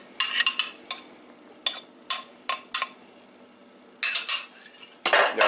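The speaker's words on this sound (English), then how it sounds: "Now, stir up your mixture again, because it'll have settled while that was cooking." A spoon scrapes and clinks against a pot while stirring a rice pudding mixture, about a dozen short metallic strokes in irregular bursts, close by and with no talking.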